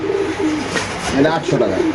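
Racer pigeons coo softly in a few low, rounded calls at a pigeon farm, with someone talking over them throughout.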